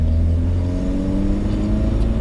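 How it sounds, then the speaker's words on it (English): A BMW E30 engine revs steadily while the car is driven, a loud, continuous low rumble with rising harmonic tones as the revs climb, no talking over it. "I'll let you hear my engine for a while."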